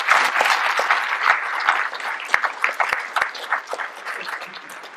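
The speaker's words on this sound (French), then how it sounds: "On peut applaudir l'État." Audience applause at a French civic gathering in Morbihan, honouring the state representative: a dense, steady patter of many hands clapping, moderately loud and filling the room, with a few sharper individual claps standing out.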